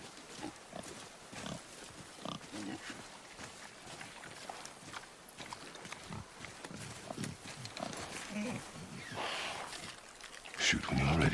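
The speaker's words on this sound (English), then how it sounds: "I knew it was a boar." Wild boar grunting in God of War, a string of low snorts and rooting grunts under a person talking, with a louder burst near the end.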